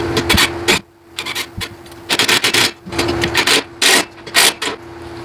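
A bolt, washers and nut being tightened on an outdoor cargo rack, heard as short bursts of metallic ratcheting and rasping, close and fairly loud, broken by brief pauses.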